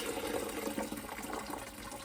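Homemade salt-free hot sauce, a double batch, being poured carefully in a continuous soft liquid stream with gentle sloshing and gurgling, close and quiet.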